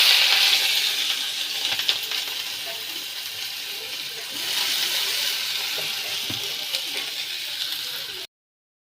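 Crushed ginger, garlic and shallots sizzle in hot oil in a steady, close, fairly loud hiss with light crackle throughout, ending abruptly in silence.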